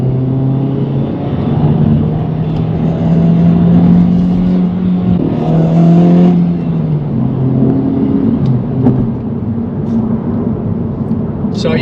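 A 2024 Acura Integra S hatchback accelerates hard from third gear. The engine note climbs and drones steadily, loud and close, with a brief dip partway through as it keeps pulling.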